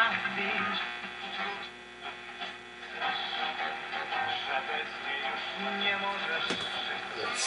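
Restored Philco 39-30 tube radio gives off a faint, steady hiss and hum with soft crackles, with a person talking quietly over it.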